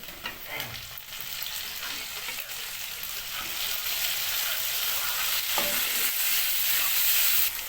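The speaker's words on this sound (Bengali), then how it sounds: "আমাদের পেঁয়াজ ফ্রাই হয়ে গেছে এবার টমেটো দেওয়া হচ্ছে" Chopped onion and tomato fry in a hot pan for a bitter gourd, potato and eggplant dish, a steady loud sizzle with occasional stirring scrapes, growing slightly louder toward the end.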